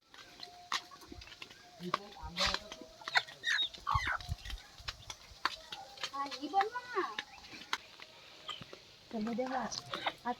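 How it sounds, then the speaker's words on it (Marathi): Hens cluck and squawk close by as they arrive at a new poultry shed, while people talk over them and rustling and shuffling sounds come and go. "कोंबड्या त्यांच्या नवीन घराकडे आलेल्या आहेत"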